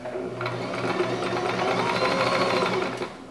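A sewing machine stitches a pillow seam with a fast, steady mechanical whir and patter, close and continuous for a few seconds before slowing at the end.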